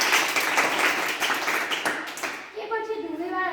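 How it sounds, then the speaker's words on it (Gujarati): Audience applause in a hall at a school play, a dense wash of clapping from many hands that fades after a few seconds as a voice begins speaking. "તાળીઓના ગડગડાટથી હોલ"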